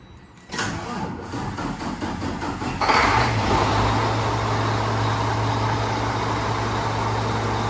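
A truck engine cranks briefly and catches, the starter whir giving way to a steady low idle that continues loud and close, with no talk over it.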